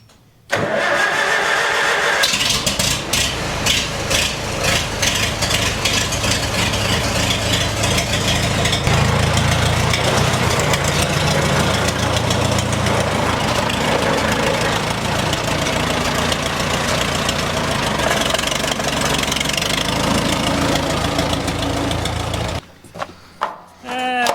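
An engine cranks and catches after a key turn, then settles into a loud, steady idle that runs for about twenty seconds before cutting off near the end; the setting is a small farm where livestock feed is ground.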